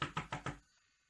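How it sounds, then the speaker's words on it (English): Four quick knocks on a door in a stalker scene of a nature-themed show, sharp and fairly close in an even rhythm, then a short fade into quiet. "Now I was relaxing until I heard knock."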